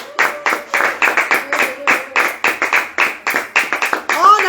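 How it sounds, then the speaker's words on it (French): A group claps in steady rhythmic bursts at a French-speaking church gathering, close and loud, with a few voices calling out between the claps. "On applaudit pour les bienfaitrices."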